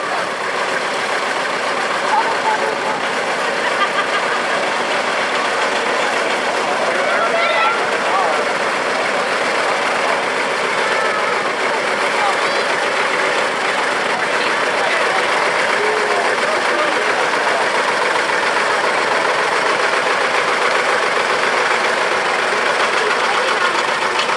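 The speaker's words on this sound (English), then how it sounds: "So there you go, a string of them. Awful nice tractors." Tractor engines rumble steadily as a string of tractors rolls past in a small-town parade, a continuous broad drone with crowd noise and occasional voices mixed in throughout.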